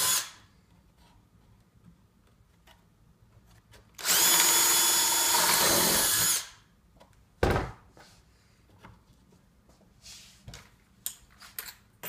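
Drill with a recess bit driving a screw into a drywall wall to hold a template, one loud close whirring run of about two seconds, followed by a few sharp knocks and handling clatter.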